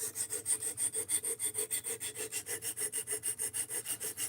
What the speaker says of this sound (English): We're sharpening to 17 degrees per side, and it's the Concept Motto.